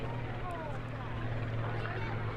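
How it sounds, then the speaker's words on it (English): Mark 19 aircraft engine at an airshow, a powerful throaty drone with a steady low hum and a broad rumble, heard at a distance under a commentator's voice. "much more powerful, throaty sound of the Mark 19."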